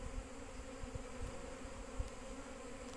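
Bees buzzing outdoors around their hive in spring, a faint steady hum of many insects with soft rises as individuals pass close.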